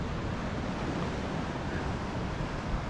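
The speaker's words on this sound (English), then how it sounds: "That's where the waves crash in, they spray up." Ocean waves crashing and spraying up at Spray Point on Rye Ocean Beach, Mornington Peninsula, a steady broadband roar of surf with wind, close and loud throughout.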